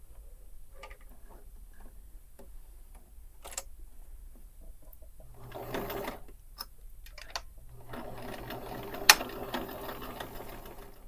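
A sewing machine stitching along the edge of fabric, a soft mechanical whir that starts and stops in short bursts with clicks and a ticking rhythm, close by and fairly quiet.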